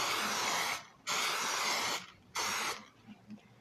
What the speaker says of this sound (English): we're going to spray it with the nonstick spray.